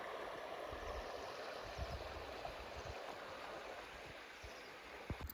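A small river flows steadily among palm trees at Ghoufi, Algeria, a continuous close rushing wash of water with occasional low thumps, no voices heard.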